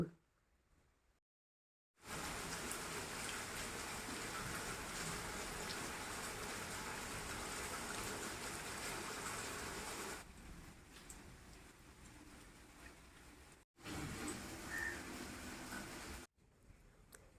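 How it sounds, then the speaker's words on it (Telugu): Rain falls in a village, a dense continuous hiss lasting over ten seconds, broken by brief quiet gaps where it cuts away. "ఈరోజైతే మా ఊర్లో వర్షం పడుతుందండి"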